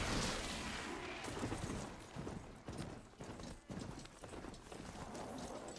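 Horse hooves clip-clop in the video game Horizon Zero Dawn in a quick, uneven rhythm, close and fairly quiet, with scattered clatter and thumps mixed in.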